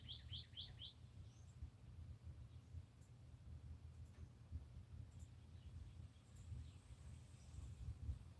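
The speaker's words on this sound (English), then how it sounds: "Oh, the birds chirping, so beautiful." Birds chirp in a garden: a quick run of clear tweets at the start, then scattered faint calls in the distance over a steady low outdoor rumble.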